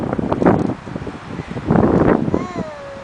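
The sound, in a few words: wind blowing during a snowstorm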